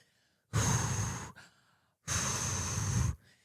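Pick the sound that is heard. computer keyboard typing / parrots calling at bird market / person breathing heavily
person breathing heavily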